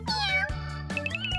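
A kitten meows two or three times in quick succession, clear and close, with no other sound around it.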